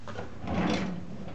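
A household drawer sliding open or shut, a short soft rumbling scrape up close that swells and fades over about a second, heard alone.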